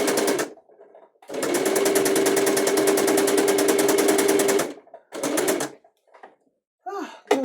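A new home sewing machine runs in loud, steady bursts, one long stretch of about three seconds and shorter runs before and after, with a fast needle chatter and a constant motor whine, separated by near silence.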